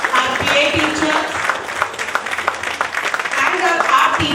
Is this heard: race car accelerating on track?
no